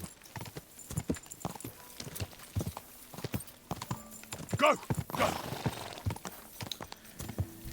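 Horse hooves clip-clop steadily at close range in the medieval video game Kingdom Come: Deliverance II, with a whinny partway through and voices shouting and talking over the hoofbeats.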